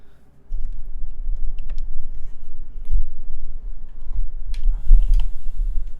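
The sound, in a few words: mechanical keyboard typing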